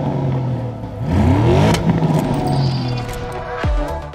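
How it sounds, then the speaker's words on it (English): A Porsche Cayenne GTS with its standard sport exhaust revs up close and loud, the pitch climbing and falling through a throaty sweep before a sharp blip near the end. "The Cayenne GTS comes with a specifically attuned sport exhaust system fitted as standard."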